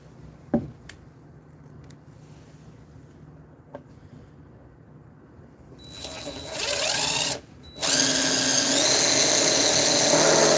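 A power drill drives screws in two bursts, a short whine of about a second followed by a longer loud sustained run, after a few faint clicks and handling knocks in a quiet room.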